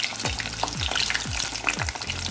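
A salmon fish head fries crispy and golden in a pan, with a dense, continuous sizzle close up and repeated scraping strokes of a utensil against the pan.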